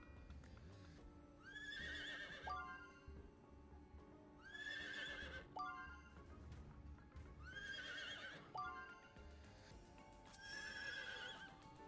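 A horse in a video game neighs four times at regular intervals, each whinny loud and close, with faint clip-clop hoofbeats and game ambience in between.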